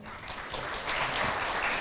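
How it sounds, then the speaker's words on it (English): Applause from the audience at a commemorative symposium on ASEAN-Japan friendship and cooperation, a dense, steady wash of many hands clapping that grows slightly louder toward the end, with no voices over it. "Please give a big round of applause."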